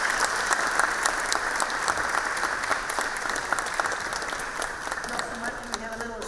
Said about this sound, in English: So one round of applause for Martin.